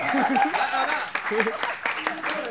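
Audience applause at a stand-up comedy show at Ethos, uneven clapping from a small crowd mixed with loud voices and shouts over it, lasting only a couple of seconds.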